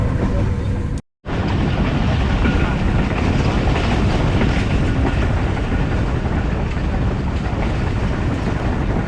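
The Karachi Express runs at speed on the Multan to Lahore line alongside the national highway, giving a loud, continuous roar and rumble of wheels and wind from inside the train, broken by one brief cut to silence.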